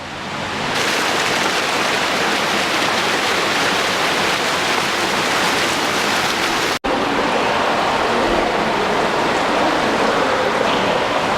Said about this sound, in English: Beautiful fountains everywhere.